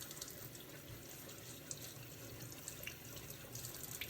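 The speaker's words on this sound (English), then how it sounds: "I have to wash my sink. Remember to wash your sink." Tap water runs steadily into a kitchen sink while a sink and drain basket are washed, a soft continuous splash with faint clinks and no talking.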